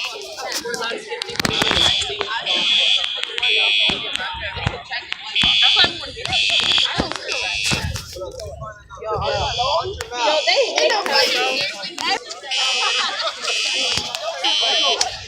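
Siemens UMMT fire alarms at a school blare a loud, continuous buzzing tone that cuts in and out in pulses, with people talking close by over them.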